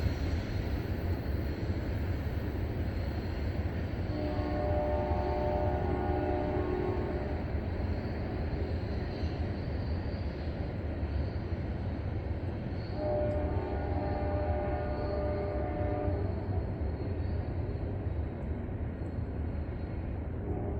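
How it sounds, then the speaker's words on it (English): Far-off lead locomotives of a Norfolk Southern freight on the D&H line drone as a low steady rumble, with two faint, drawn-out horn-like tones rising briefly from the distance over a constant wide background hum. "That sound was the lead locomotives over a mile and a half away."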